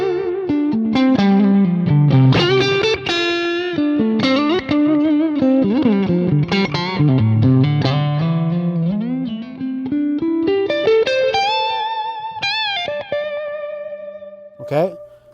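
Clean electric guitar notes and chords through a Lone Star amp with a Carl Martin compressor, compressed and evenly sustained, with a light echo trailing each phrase; played alone, ending in a few harmonic pings.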